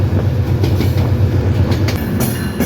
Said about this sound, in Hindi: कोयटा से आने वाली Jafar express Sibi railway junction को अप्रोच कर रही है।